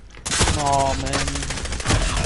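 Gunfire in a search-and-destroy match of an online shooter, a rapid burst of automatic fire with several close, loud shots, and a voice talking over it.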